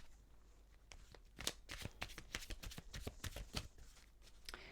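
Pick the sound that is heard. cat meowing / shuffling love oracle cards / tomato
shuffling love oracle cards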